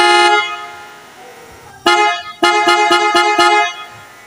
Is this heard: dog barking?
no